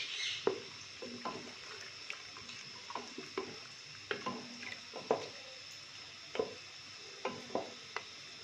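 Snakehead fish fries quietly in a pan, a low sizzle steadily underneath and regular scraping and tapping from stirring.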